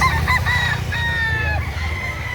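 A rooster crows at a busy livestock market, its long cock-a-doodle-doo close and clear over a low crowd murmur, with a few clucks trailing after.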